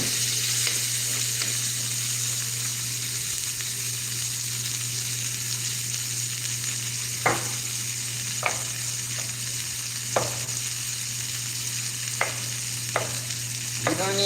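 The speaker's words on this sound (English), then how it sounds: "This is called basting." Food is basted in a sizzling frying pan: a steady, close crackle of hot fat runs throughout, with a few sharp spoon clicks against the pan in the second half.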